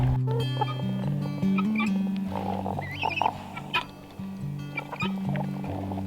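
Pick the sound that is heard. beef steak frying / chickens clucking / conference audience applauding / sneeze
chickens clucking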